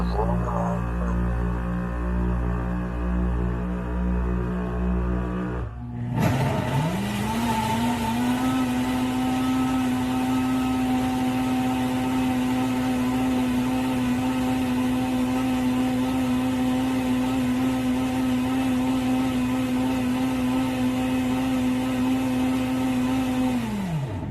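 A blender motor starts after a brief pause and runs with a steady, loud hum and whine, holding a constant pitch under a humming vacuum pump.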